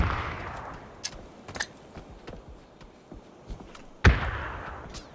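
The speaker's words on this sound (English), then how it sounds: "Simc with the frag grenade to open up on Perfectix here" Gunfire crackles in PUBG as scattered shots and thuds land over several seconds. One loud, heavy boom from a frag grenade follows, trailing a rumbling decay. No voices.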